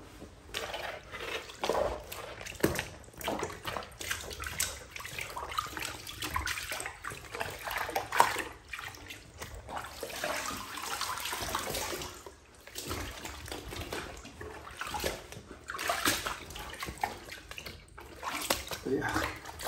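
Water sloshing and splashing in a filled tub while soaking indigo denim, a continuous watery wash with a voice talking over it now and then.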